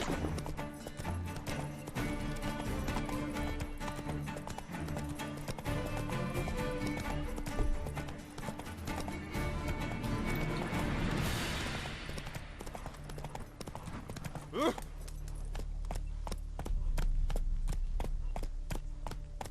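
Hooves of a horse clip-clop steadily in The Witcher 3, a continuous rhythmic trot mixed with game music and ambience, with one brief sharp whoosh and a short faint whinny partway through.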